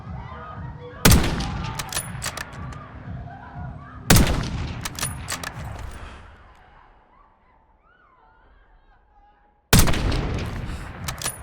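Gunfire in the Call of Duty Black Ops 6 campaign: three separate loud, sharp blasts with ringing tails, the first two about three seconds apart, then a quiet stretch before the third.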